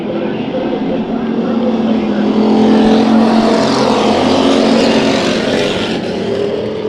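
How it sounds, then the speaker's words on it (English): Race cars roar through a heat race at Bakersfield Speedway, a loud continuous engine drone that swells midway as the field passes close, then eases, with a voice talking over it. "Brian Childress having to do some motor work after the last race out here at Bakersfield Speedway"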